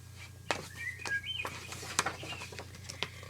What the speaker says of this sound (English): She watched birds making their nest